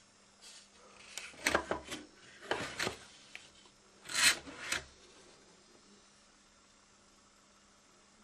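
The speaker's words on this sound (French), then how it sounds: "Ça, il faut poncer ça ici." The casing of a DVD burner is sanded by hand in several short bursts of rasping strokes, close and fairly quiet, separated by pauses.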